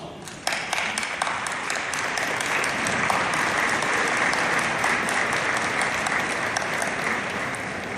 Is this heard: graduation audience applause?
yes